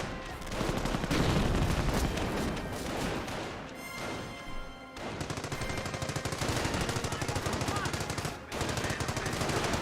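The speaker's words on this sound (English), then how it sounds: ".30 cal firing away, suppressing some of the Panzer Grenadiers on the flank" US .30 cal machine gun fires in long, rapid bursts in the World War II strategy game Company of Heroes, loud and dense, mixed with other gunfire and battle noise, with brief gaps between volleys.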